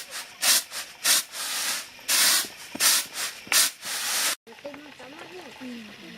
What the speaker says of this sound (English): we're grinding sugar to put on top of the cake